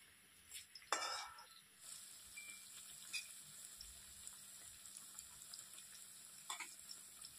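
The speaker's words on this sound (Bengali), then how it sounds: "দেখুন লাল করে ভাজা হয়ে গেছে" A potato snack sizzles in hot oil, a quiet steady frying hiss with a few louder crackling bursts and stirring sounds.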